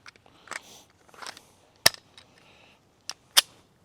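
A PSA Micro Dagger pistol fires from a Glock 43X magazine in a few sharp, separate shots among softer clicks and handling noise, heard in a quiet setting at moderate distance.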